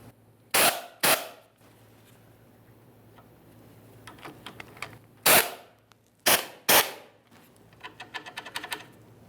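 Wrench work on the 15mm sleeve clamp bolts of a 1994-2001 Dodge Ram 1500 drag link, heard as a few sharp, loud metallic snaps in pairs with faint ticking and clicking between them, close up, no talking.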